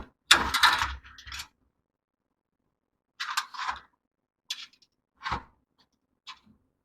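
Nuts and bolts with washers tightened by hand to mount a transformer inside a homemade 1000 watt UPS, several short separate bursts of metallic clicking and ratcheting with silent gaps between them.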